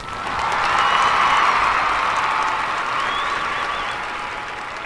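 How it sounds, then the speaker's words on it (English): A school crowd gives a round of applause for a netball coach, a dense, loud wash of clapping that swells quickly and then slowly tapers over a few seconds. "can we just give a round of applause for our coach, Mr. Taggy?"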